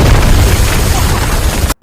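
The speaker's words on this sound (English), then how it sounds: "Just as he was about to show him their mosque, an explosion breaks out" An explosion at a military outpost in Afghanistan roars loud and close, a dense, sustained blast of rumbling noise lasting nearly two seconds before cutting off abruptly to silence.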